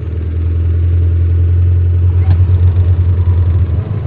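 A manual-transmission car engine hums steadily at low idle, loud and close, then the revs rise slightly with a rougher rumble toward the end as the accelerator is pressed.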